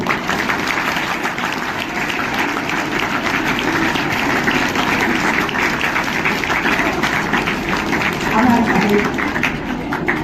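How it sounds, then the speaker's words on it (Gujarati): A room full of people at a school maths and science event claps steadily for several seconds, the applause dense and even throughout. "તમારી તાળીઓ"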